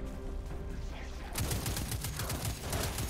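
Shotgun fire from the Destiny 2 video game bursts in after a quieter stretch, a rapid run of blasts packed close together and fairly loud.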